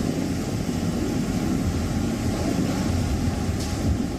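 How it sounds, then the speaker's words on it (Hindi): Sea waves crash on the shore along the Arabian Sea coast ahead of Cyclone Biparjoy, heard as a continuous loud roar of surf mixed with wind buffeting the microphone, with no voices. "समंदर की लहरें किनारे से टकरा रही हैं।"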